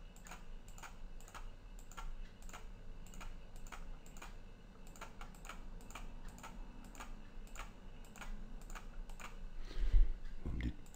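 Clicky computer keyboard presses in a steady, irregular typing rhythm, close and fairly quiet, with a low background hum and a soft thump near the end.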